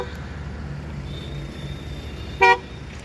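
A passing vehicle gives one short horn toot from behind, loud and brief, over a low steady rumble of road traffic in a town street.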